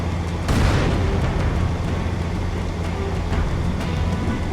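A Halo 2 tank cannon shot booms loudly near the start on the Metropolis level, followed by a sustained rumbling roar of engine and battle noise.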